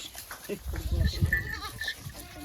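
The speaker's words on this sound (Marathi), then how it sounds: "ही लय मोठी शेळी झाली नंदा" A large female goat and others bleat in short, nasal calls close by, mixed with people talking nearby and some handling noise.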